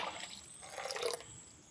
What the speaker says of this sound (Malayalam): എന്നിട്ട് അതിനാവശ്യത്തിൽ വെള്ളം ഒഴിച്ചു കൊടുക്കുക.